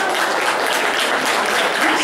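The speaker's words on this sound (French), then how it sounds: "Foule en délire." Crowd applauding at a small Japan-themed fan convention, a dense, steady wash of many hands clapping together throughout, fairly loud and continuous with no pauses.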